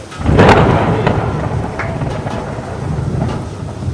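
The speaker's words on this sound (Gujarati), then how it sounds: "ગાજવીજ સાથે પડાકા સાથે ભયંકર વરસાદ" Thunder rolls loudly during a heavy thunderstorm, a deep rumble that swells early and then fades into a lingering low roar.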